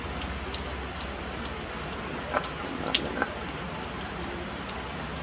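Steady rain falling outdoors under high clouds at dusk, a continuous hiss of drops with a few sharper taps and splashes standing out near the microphone.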